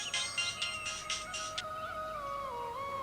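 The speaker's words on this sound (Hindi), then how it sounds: "किसका फोन आ रहा है?" A phone ringtone plays a short melodic pattern of repeated chirping tones, then trails into a softer sustained tune.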